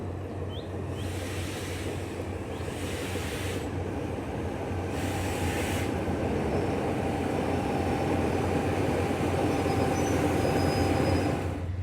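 A train rumbles past on the Death Railway in Kanchanaburi, Thailand, a steady clatter of wheels on track that continues throughout and grows slightly louder toward the end.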